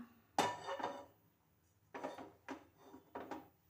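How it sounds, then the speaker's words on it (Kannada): Metal cooking pot set onto a kitchen stove while preparing garlic tomato chutney, giving a sharp clank followed by several lighter knocks and scrapes, close and distinct against a quiet room. "ಹಾಗೇ ಒಂದು ಪಾತ್ರೆ ಇಟ್ಕೊಂಡ್ಬಿಡೋಣ"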